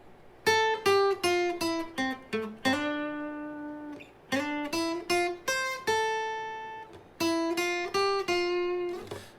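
A bright plucked acoustic guitar riff, quick picked notes ringing in repeating phrases with a few sustained chords, played solo and close.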